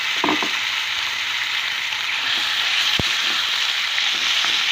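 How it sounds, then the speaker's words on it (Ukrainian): Marinated meat for shawarma sizzles steadily in hot oil in a frying pan, a dense crackling hiss close by, with a few sharper pops and spits breaking through. "м'ясо гарно так смажиться"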